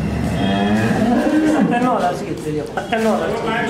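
A cow lows at a dairy farm in Haryana, its deep drawn-out moos close and clear, rising and falling over several seconds while people talk alongside.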